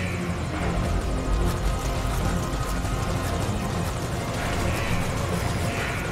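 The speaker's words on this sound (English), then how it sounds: "Quick, get him on the chopper." Helicopter in the Metal Gear Solid V: Ground Zeroes video game, a steady loud rotor thump and engine whine running continuously throughout with no break.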